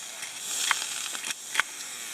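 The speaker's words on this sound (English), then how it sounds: "give it a couple of steams" A handheld closed steamer puffing steam onto yarn for blocking: a steady broad hiss at close range, with a couple of brief sharper bursts as the steam is released.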